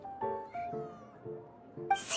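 A cat in Genshin Impact gives a string of short, close meows, four or five chirpy calls in a row followed by a sharper, noisier burst at the end.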